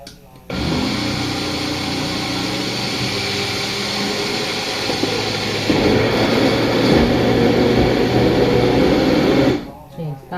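A Magic Bullet blender whirs while blending hemp milk, a loud, steady motor drone that starts abruptly, rises in pitch and strain partway through, then cuts off near the end.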